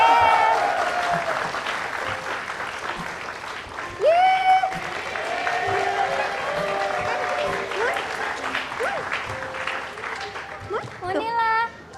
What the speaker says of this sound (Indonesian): Tepuk tangan buat Baby Monela.